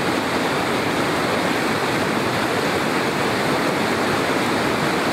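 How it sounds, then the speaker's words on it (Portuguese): A roadside river spills over into a waterfall, giving a steady, loud broadband roar of rushing water that holds unchanged throughout with no voices. "E aqui ele forma essa cachoeira."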